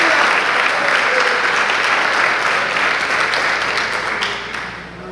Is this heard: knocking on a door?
no